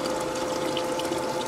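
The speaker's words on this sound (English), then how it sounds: "turn on the valve slowly to start the water flow" Water flows steadily into a funnel after a valve opens, a continuous close rushing hiss with a faint steady tonal hum underneath and no voices.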